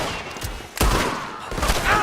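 Gunfire in the Red Dead Redemption 2 video game, a loud, sharp shot with a booming tail, then a second burst, heard close amid game noise and no speech.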